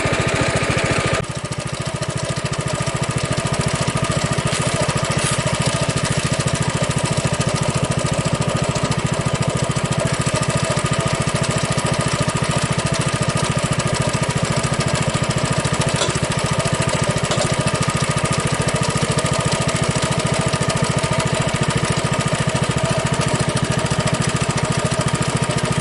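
A tractor engine runs steadily while pulling a repaired log dolly, a loud, continuous mechanical drone with rattling, close and unchanging throughout, with no voices.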